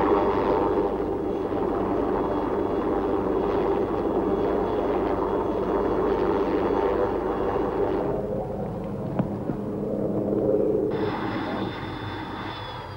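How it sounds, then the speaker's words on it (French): A helicopter flies toward the Hornli hut below the snow-covered north face of the Matterhorn, a loud sustained rotor and engine roar that shifts in tone and fades slightly partway through. "Escoffier gagne le refuge du Hornli en hélico"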